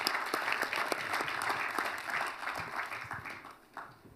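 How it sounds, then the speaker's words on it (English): Audience applause follows a speaker's submission at a panel discussion on African financial reform, steady clapping from a moderate crowd for about four seconds, easing slightly toward the end. "Let's give him a round of applause for that submission"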